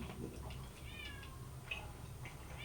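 A cat meows through a closed door, a few faint drawn-out cries spread across the clip over a low steady background hum indoors.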